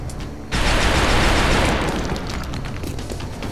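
Gunshots in the turn-based video game XCOM: Enemy Within hit as one sudden loud blast, followed by a long, rumbling decay that slowly fades.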